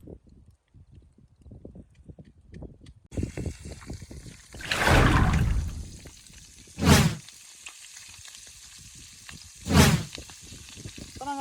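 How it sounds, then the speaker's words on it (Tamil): Fish sizzles in hot oil in a frying pan, a soft crackle under clattering and handling sounds, with several louder bursts of hissing as pieces go into the pan. "இப்போ நாங்கள் ஃபிஷ் ஃப்ரை பண்ணுறோம்."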